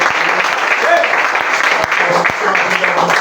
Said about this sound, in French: Est-ce qu'on peut acclamer fort pour eux?